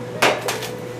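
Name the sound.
turkey being placed into a roasting pan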